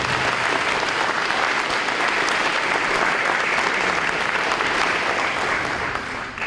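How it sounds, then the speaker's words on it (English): An adult basic education graduation audience applauds, loud and sustained clapping from a large crowd, even throughout and tapering slightly at the end. "Can we please give them one more round of applause?"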